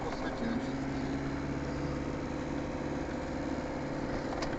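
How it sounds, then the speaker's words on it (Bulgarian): A Land Rover Discovery with a 300Tdi diesel engine idles steadily and close by, its even low rumble continuing throughout without any obvious change in pitch. "Много хубаво ти работи двигател, човек."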